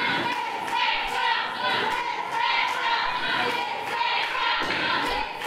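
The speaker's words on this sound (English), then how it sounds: "There's a Mid-South Trucks chant going on." A wrestling crowd at an underground show chants "Mid-South Trucks" in a steady rhythmic cadence, a loud, reverberant mass of voices filling the hall, with a commentator talking over it.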